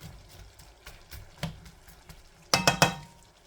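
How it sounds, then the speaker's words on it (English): Onion pieces being stirred in a frying pan while cooking egg roll in a bowl: soft sizzling underneath scattered utensil scrapes, then a quick cluster of sharp metallic clinks near the end. "now I'm going to go ahead and mix this around and try to get these onion pieces separated out as best I can"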